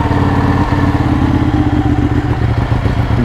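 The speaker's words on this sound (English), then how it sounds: "let me go and get this cold start going" A 2012 Ducati 1199 Panigale with stock exhaust idles after a cold start, a steady, loud, close rumble with mechanical clatter running unbroken throughout.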